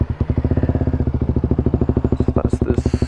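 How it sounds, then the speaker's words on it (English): A KTM RC 125cc motorcycle exhaust idling close by, a steady rapid low-pitched pulsing burble with regular firing beats throughout and no speech over it. "Let's hear the exhaust."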